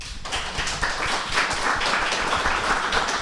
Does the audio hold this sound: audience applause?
yes